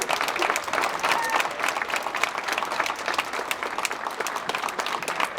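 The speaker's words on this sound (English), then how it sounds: "So let's just give Grandmaster MacKenzie a big round of applause, guys." An audience at a martial arts school's 30th anniversary celebration claps loudly and steadily for several seconds, a dense close burst of applause with scattered cheers.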